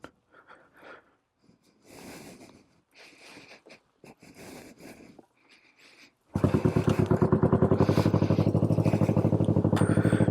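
Honda CB450 motorcycle engine cranking and catching, then settling into a loud, rapid, steady idle after a few seconds of quieter rustling and handling sounds nearby.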